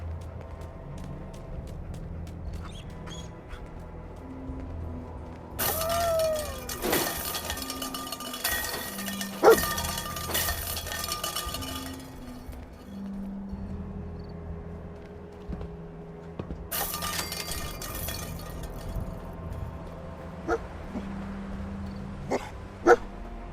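A dog companion barks in Fallout 4 on PS5: a few short, moderately loud barks scattered among game sounds, soft clinks and a low ambient hum, with no talk.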